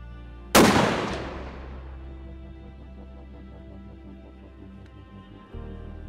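A single loud rifle shot firing a 180 grain Berger bullet at a bushbuck in Ethiopia, a sharp crack followed by a long rolling echo that fades across open terrain, with faint background hum.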